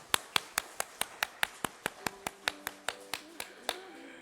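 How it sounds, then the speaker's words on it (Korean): Congregation clapping together at the close of a Korean Presbyterian church worship service, a steady rhythmic series of sharp, evenly spaced claps, with soft organ or keyboard notes entering partway through. "영광의 박수를 주께 드리겠습니다."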